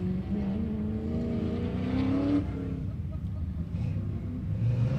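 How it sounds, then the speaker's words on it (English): A 1966 Ford Mustang with a 369 cubic inch Ford engine runs an autocross course, its engine revving and pulling hard in a steady, loud drone while an announcer talks over it. "in a 66 Mustang, packing a 369 cubic inch Ford engine"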